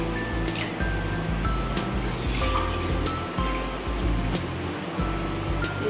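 Water pours steadily into a bowl of wheat semolina (rava), a continuous close gushing splash that lasts throughout.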